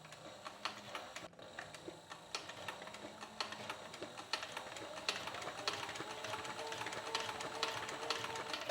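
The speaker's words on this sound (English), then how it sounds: "we're going to just sew the outline of our back cinch" A sewing machine stitches the outline of a 6-inch back cinch, running in a steady, fast ticking rhythm close by, with a brief pause early on before it carries on continuously.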